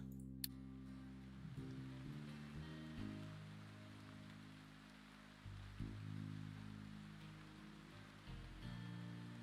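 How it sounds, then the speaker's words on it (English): Rain falls steadily in the industry-building video game Captain of Industry, a soft even hiss of drops heard faintly under low, shifting background music tones. "Finally, some good weather. Enjoy the rain, my little farms."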